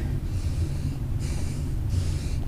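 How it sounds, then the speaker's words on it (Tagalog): A cyclist pants heavily from exhaustion while climbing uphill, three loud breaths rising over steady low road and wind rumble. "kahit sobrang hingal na"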